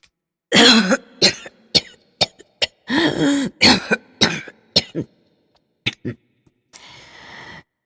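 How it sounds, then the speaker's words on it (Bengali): A narrator coughs repeatedly in an audiobook reading of a Bengali story, a close, dry run of harsh coughs and throat clearing in uneven bursts, trailing off into a breathy exhale. "বুকে হাত দিয়া বার কত কাশিল"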